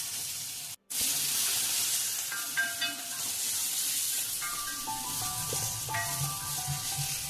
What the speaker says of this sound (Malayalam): ഉള്ളിയെല്ലാം നല്ലോണം വഴണ്ടി വന്നിട്ടുണ്ട്.